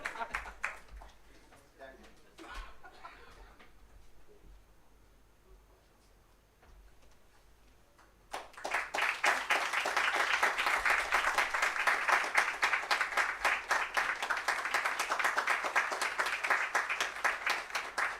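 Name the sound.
audience applause for a professor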